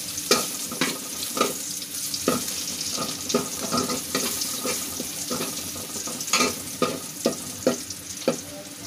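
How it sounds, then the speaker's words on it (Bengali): Garlic frying in oil for an elephant apple (chalta) pickle: a steady sizzle with a string of sharp scraping and tapping stirring strokes at an uneven rhythm, close by, with no voices. "রসুনটাকে একটু ভেজে নেব 2-3 মিনিটের মতো রসুনটাকে একটু ভেজে নেব"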